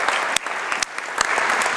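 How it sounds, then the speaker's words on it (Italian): An audience at an evening festival event gives sustained, close applause, a thick continuous patter with a few sharper individual claps standing out. "E per questo vi facciamo un doveroso, prolungato applauso."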